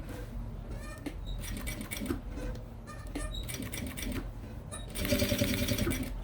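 A sewing machine running loosely and making a slight rattling noise while stitching a Kipling-style pouch, giving rapid mechanical clatter in short bursts with brief pauses, then a louder, faster run at the end.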